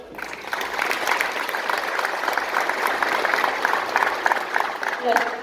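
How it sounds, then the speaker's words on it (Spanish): At an indigenous Nahuatl community consultation gathering in Ixtolco de Morelos, the audience gives a sustained round of applause that stays steady and fairly loud for several seconds, with some talk mixed in near the end. "a quien le pedimos que la recibamos con un fuerte aplauso"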